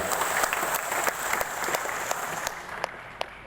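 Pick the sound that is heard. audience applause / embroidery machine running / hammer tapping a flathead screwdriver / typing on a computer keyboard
audience applause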